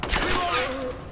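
Rapid gunfire from the video game Rise of the Tomb Raider, a short burst of shots crackling briefly under a voice.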